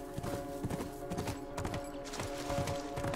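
Horse hooves in The Last of Us clop in a quick, repeated gallop rhythm, up close and moderately loud over a sustained tonal game background.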